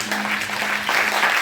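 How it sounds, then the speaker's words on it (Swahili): A church congregation at a Sunday preaching service claps for Jesus in dense, steady applause, loud and close throughout. "Pigie Yesu makofi"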